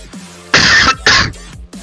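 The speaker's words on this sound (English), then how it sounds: "I can cough like this." A person deliberately coughs twice in close succession, two loud, harsh bursts heard up close with near silence around them.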